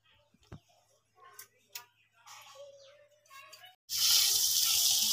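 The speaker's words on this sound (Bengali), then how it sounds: "মাছগুলো আমি ভালো করে ধুয়ে নিচ্ছি।" Running tap water pours in a loud, steady hiss over cut fish being rinsed in a kitchen, starting abruptly near the end after a stretch of quieter clinks and kitchen sounds.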